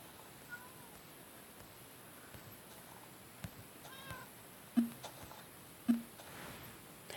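Two short Minecraft cat meows, spaced about a second apart, rise faintly above a steady murmur of background noise with occasional soft clicks.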